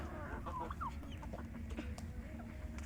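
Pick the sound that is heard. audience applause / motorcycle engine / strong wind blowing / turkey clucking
turkey clucking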